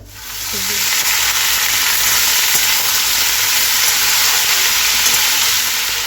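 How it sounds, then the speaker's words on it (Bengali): Chopped vegetables fry in hot oil in a pan, a loud, steady, continuous sizzle that fills the whole stretch with no talking. "এখন আমি এই যে কেটে রাখা সবজিগুলো সব ভাজবো"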